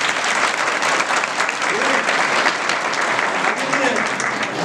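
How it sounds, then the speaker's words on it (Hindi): Loud, steady applause fills a theater after a stage play by Maqsad Sanstha Group of Uttarakhand, a dense wall of clapping throughout with voices mixed faintly into the crowd noise. "जोरदार तालियां।"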